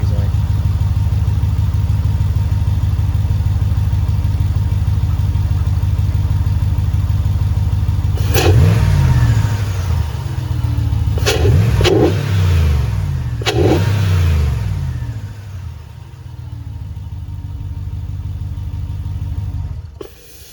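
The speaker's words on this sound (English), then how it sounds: "Figured I'd give it a couple revs with the cover off just to see what it sounds like." A Ram truck engine idles with its Airflow intake cover off, a low steady rumble, then three short revs climb and fall back before the idle settles and a final blip comes at the end.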